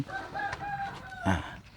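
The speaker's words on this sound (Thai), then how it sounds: "มีไก่เยอะ" Chickens around a house yard clucking, with a rooster's short crow-like call near the end, close and clear, several clucks spaced across under two seconds with no talking.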